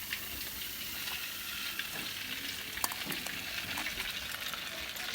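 Snakehead fish frying in hot oil, a steady dense sizzle with occasional crackles and pops, close and fairly quiet, with no voices.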